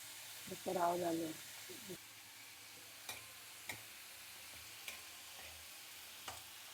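Tomatoes sautéing in a pan for a home lunch, a faint, steady sizzle with a few soft stirring scrapes and clicks, a brief voice heard near the start.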